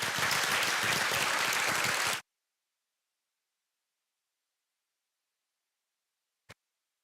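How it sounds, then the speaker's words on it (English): Applause at a school board regular session meeting, a dense burst of clapping lasting about two seconds before it cuts off abruptly, followed by near silence with one faint click. "One more round of applause for all of you."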